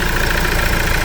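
A car engine, which has a leak at the timing cover, runs steadily at idle close by, a dense continuous mechanical rumble with no talk.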